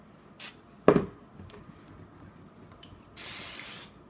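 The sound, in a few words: olive oil spray on spaghetti squash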